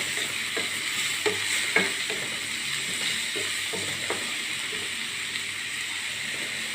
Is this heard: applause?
no